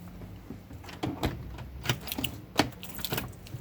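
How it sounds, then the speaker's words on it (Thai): A door is shut amid a series of sharp knocks and clacks from handling, uneven bumps and rattles at close range on a snowy January day, with no speech heard. "ขอปิดประตูกันจ้ะ"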